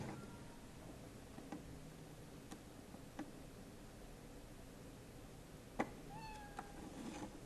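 A cat meow sound effect: a few short, faint meows scattered over a quiet, hissy background, the clearest ones near the end.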